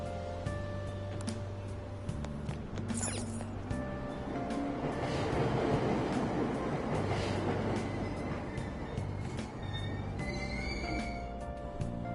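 Train noise at a station in Persona 5 Royal: a steady, dense rumble with tonal whines and clatter, running continuously through the whole span.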